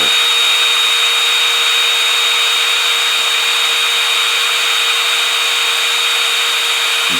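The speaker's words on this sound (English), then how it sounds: "I'm drilling through from the back side of the body to avoid tear out on the back side." A power drill bores through the wooden body of a guitar, giving a loud, steady high-pitched whine that holds unbroken from start to finish with no talk.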